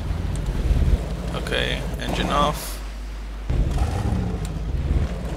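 A boat engine in the survival game DayZ runs as a low, steady rumble under wind-like noise, with a brief quiet dip partway through, while someone speaks a word over it.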